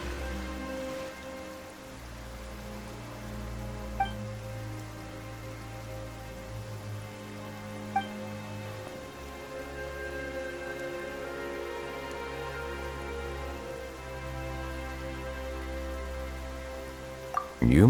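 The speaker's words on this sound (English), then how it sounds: "Why is it raining all of a sudden?" Rain suddenly begins in the video game Genshin Impact, a soft patter of falling drops heard beneath sustained background music, with a few faint chimes.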